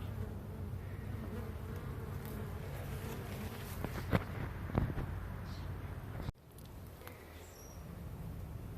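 Honeybees in an aquarium observation beehive make a steady close-up buzzing hum, calm and continuous, with a few brief louder wingbeat passes and a soft bump partway through.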